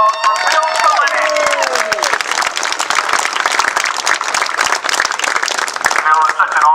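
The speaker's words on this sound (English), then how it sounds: "how about a nice round of applause for Bill Cullinan?" An audience at a veterans' project unveiling breaks into dense, sustained applause, with scattered cheers and a voice talking over the clapping at the start.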